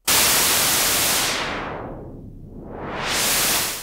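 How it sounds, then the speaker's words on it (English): A synthesizer noise oscillator heard on its own with the filter fully open gives a loud, steady hiss of broadband noise whose brightness sweeps down to a duller rush midway and then opens back up. "listen to the noise on its own. So only listening to noise now."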